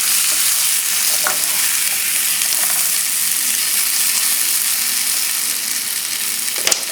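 Beef tips sear in a hot pan, a steady close sizzle and crackle of frying running throughout, with a couple of sharp pops and a faint stir or scrape near the end.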